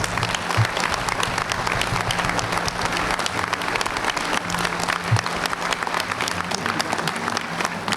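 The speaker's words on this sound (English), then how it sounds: "I ask that the Legion family give them a round of applause for being the right commander at the right time" Sustained audience applause fills a convention hall at a Legion department gathering, a dense steady roar of many hands clapping at even loudness throughout, with no talk over it.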